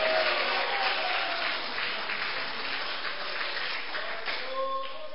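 A church congregation applauds during a Spanish-language worship service and sermon, steady sustained clapping from a crowd that continues throughout with faint background sound beneath it.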